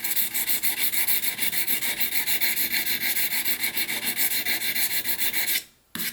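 A whittling knife scraped steadily along a sharpening stone in quick, even back-and-forth strokes, a close, loud rasping rhythm that runs continuously before a brief pause near the end, then resumes.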